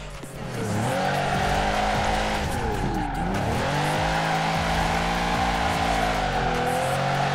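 A Mercedes G65 AMG drifting in Forza Horizon 4: its engine drones loud and steady while the tires squeal continuously, the pitch dipping and climbing as the car slides through the turns, with no talk over it.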